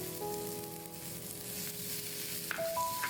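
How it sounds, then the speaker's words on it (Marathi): Chopped onion fries in a pan for spicy sev bhaji, producing a soft, continuous sizzle and crackle. Faint tonal hums sit underneath throughout. "कांदा परतून घ्यायचा आहे"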